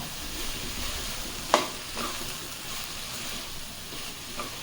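A cabbage and moong dal poriyal is stirred in a pan, a soft continuous sizzle with a few scraping strokes of the spoon, one sharper knock near the middle, close and moderately quiet.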